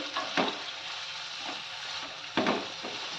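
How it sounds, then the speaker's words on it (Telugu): Onion and tomato fry in oil for palak paneer, a soft steady sizzle close by, broken by two brief louder stirring scrapes, without any talk. "ఈ విధంగా మనం ఒక 2 నుండి 3 నిమిషాలు చక్కగా ఆయిల్లో ఫ్రై చేసుకోవాలి."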